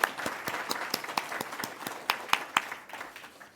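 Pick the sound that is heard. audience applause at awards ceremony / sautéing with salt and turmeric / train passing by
audience applause at awards ceremony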